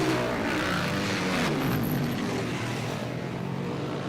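Racing motorcycles and quads on a dirt track drone steadily with loud engine noise that swells for a moment partway through, heard without talk.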